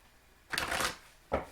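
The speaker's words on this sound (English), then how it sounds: "One more shuffle." Two quick bursts of tarot cards being shuffled, a riffling flutter followed by a short second snap, close and fairly soft.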